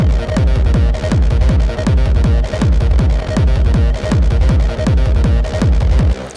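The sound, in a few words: sampler loop and 303 bass synth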